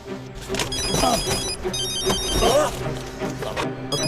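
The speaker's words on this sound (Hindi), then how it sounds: "फोन उठाओ" A telephone rings in two bright, repeated bursts, fairly close, with faint voices and background noise underneath.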